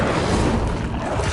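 An Incendio fire spell in Hogwarts Legacy roars as a brief, loud burst of whooshing flame with a low rumble, sustained evenly through its short length.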